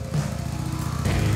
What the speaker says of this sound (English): The new Harley-Davidson Breakout Motorcycle.